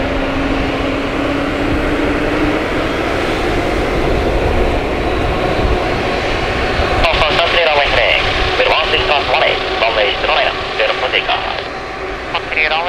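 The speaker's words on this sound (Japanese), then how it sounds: "機体はゆっくりと滑走路へと進んでいきます。" A fixed-wing airliner slowly taxis onto the runway at Miyazaki Airport, its engines producing a loud, steady roar and whine that grows rougher partway through, with no speech.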